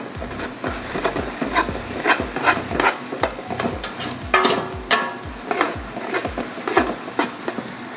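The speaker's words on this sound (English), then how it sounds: "So we're going to give this a quick little stir." A spoon rasps and scrapes steadily through a dry mix of chili powder, granulated garlic and kosher salt, a close, rhythmic stirring with no talking.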